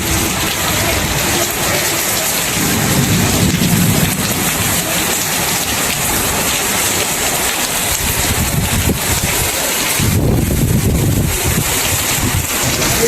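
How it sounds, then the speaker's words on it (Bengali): Heavy rain pours down in a dense, steady roar, and low rumbles of thunder swell through it twice. "বাইরে প্রচুর ঝড় বৃষ্টি হইতেছে,"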